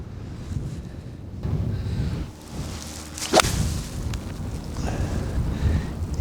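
A 6 iron golf shot on a windy course, with a sharp swish and crisp strike near the middle of the clip over steady wind buffeting the microphone.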